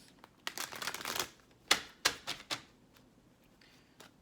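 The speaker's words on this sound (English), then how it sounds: "And let me do one of these shuffles." Cards riffle and slap in quick bursts, followed by a few sharp taps, close and fairly quiet, then near silence.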